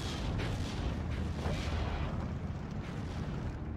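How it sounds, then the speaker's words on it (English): Mortar fire in the strategy game Steel Division 2, heard as a dense, continuous low rumble of booms and blasts with no talk over it. "I'm dropping mortar shots in this position."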